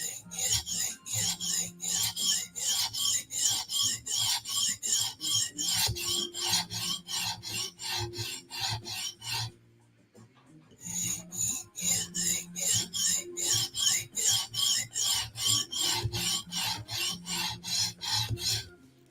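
A knife edge is drawn across a 150 grit abrasive in steady, rhythmic rasping strokes, about two per second, close and loud, with one short pause partway through before the strokes resume.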